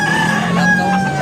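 A rooster at a chicken market in Tabunok, Cebu, crowing in one loud, close, drawn-out call that fills the whole short stretch.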